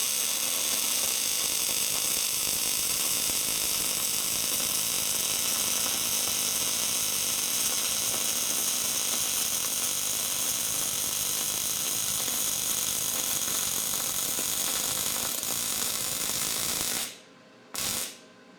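A MIG welder feeding 0.030-inch wire lays a bead on a steel lid, a loud, unbroken crackling buzz for about seventeen seconds that cuts off, then one brief final burst.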